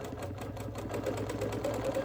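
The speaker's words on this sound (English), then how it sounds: "Here I'm ditch quilting" Steady, fast mechanical whirring and stitching of a sewing machine ditch quilting a wool appliquéd quilt, continuous and close, with faint background noise and no talk.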